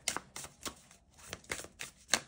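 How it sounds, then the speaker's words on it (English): A new deck of playing cards is riffle shuffled indoors, giving several quick, close, crisp bursts of flutter and clicking, spaced apart with quiet gaps between them. "I feel like this is an easy shuffle to riffle."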